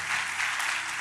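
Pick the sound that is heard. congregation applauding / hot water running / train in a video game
congregation applauding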